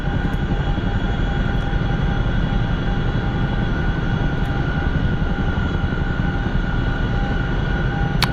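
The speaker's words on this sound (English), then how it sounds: "Chinook's pretty easy to start." Chinook helicopter engine in a video game, a loud, steady turbine whine and rumble holding constant throughout, with faint clicks on top.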